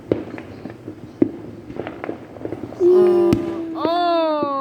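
Fourth of July fireworks go off as a string of distant sharp pops and cracks, then sustained whistling tones, while a person exclaims briefly.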